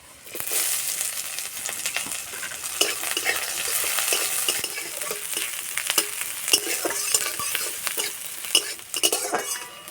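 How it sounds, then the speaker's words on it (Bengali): Crushed garlic, a dried chili and chopped onion sizzling in hot oil while a utensil stirs and scrapes the pan, a steady crackle with no talking. "পেঁয়াজ আর রসুন ভাজা হয়ে গেছে"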